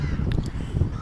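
Crows in East London caw in a quick burst of harsh calls over steady outdoor background noise, fairly close and moderately loud.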